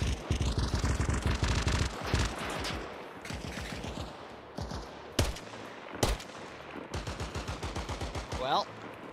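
Gunfire in the Arma Reforger video game, with rapid bursts of automatic shots, sharp single cracks and pauses between volleys, loud and close, with a voice briefly heard.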